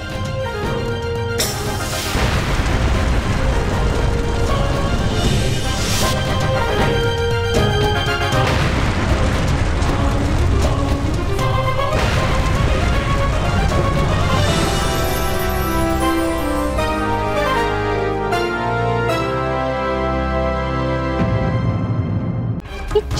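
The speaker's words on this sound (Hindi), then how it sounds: "और इन धमाकों की आवाज तो कैद खाने की दिशा से आ रही है।" Loud, dense rumbling blasts and bursts follow one another over dramatic music in a superhero TV series, booming explosions piling up with no talking.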